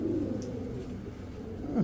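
A male aluminium silver pigeon coos softly, its low, rounded notes coming close by at the start and again near the end over a steady room hum.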